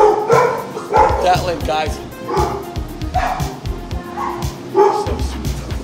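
Dogs barking repeatedly and loudly nearby in quick, energetic bursts, mixed with yips and whimpers, while a person talks over them.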